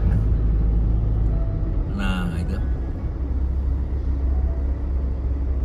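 Steady loud road rumble from a truck driving on a busy toll road in Brazil, with continuous engine and tyre noise and someone briefly speaking over it.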